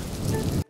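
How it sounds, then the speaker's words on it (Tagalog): Steady, dense rain pours loudly as a sound effect, a continuous wash of drops that cuts out briefly near the end before resuming. "Nasa ulan na walang payong. Umuulan na."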